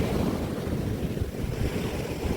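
Ocean waves wash onto the shore at Rameswaram in a continuous, loud, rumbling surge, with heavy wind noise buffeting the microphone throughout and no voices.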